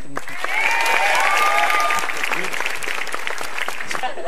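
Stand-up comedy audience at a televised comic battle breaking into sustained applause, thick and constant, with a voice speaking over the clapping in the first seconds.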